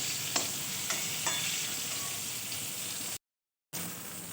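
Pieces of pointed gourd fry with a little turmeric in a hot pan, a steady sizzle broken by a few sharp stirring scrapes, then a short dropout before the frying resumes. No one speaks.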